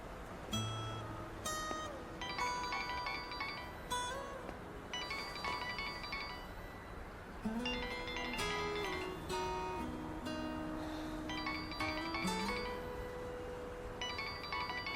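A phone ringtone plays its melodic electronic tune repeatedly, moderately loud and alone, cycling through several phrases before a call is answered.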